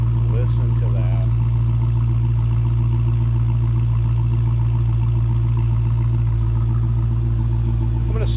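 A 2016 Dodge Challenger SRT Hellcat with a tuned 905-horsepower engine idling close up, a loud, deep, steady rumble running throughout with a faint voice briefly over it.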